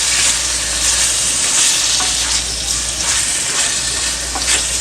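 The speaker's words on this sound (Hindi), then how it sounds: "तो अच्छी तरह मिक्स कर लेते हैं।" Cubed chicken sizzles loudly in hot oil in a frying pan while being stirred, a steady close frying hiss with occasional scraping, cooked for pickle-flavoured chicken macaroni; no speech.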